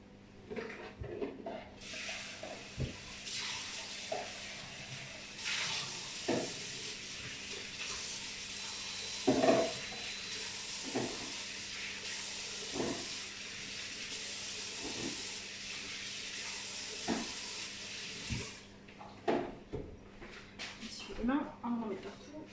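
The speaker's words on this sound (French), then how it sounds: "Je vais aller laver les pommes de terre" Running tap water hisses steadily for most of the stretch while potatoes are washed in a home kitchen, with occasional knocks and clatters and a person talking over it before the flow stops near the end.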